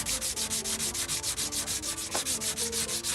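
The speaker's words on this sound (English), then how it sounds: "And I don't sand down like too much of the wrong area" Steady rhythmic rubbing of a sponge sanding bondo filler on a car body, back-and-forth strokes about six per second, loud and close with no talk.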